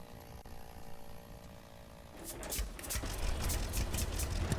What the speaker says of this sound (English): Never run with a chainsaw in your hand.